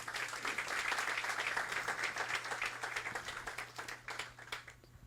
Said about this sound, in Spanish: Aplauso para el Señor.